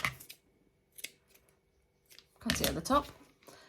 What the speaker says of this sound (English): then we're going to cut it at the top